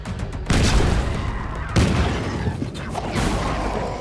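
Gunfire and heavy impacts in the Silence of the Siren space strategy game, with two loud booming onsets followed by sustained rumbling battle noise.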